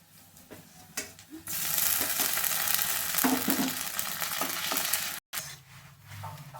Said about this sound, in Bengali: এবার আমি আদা রসুন বাটাটা এর মধ্যে দেব।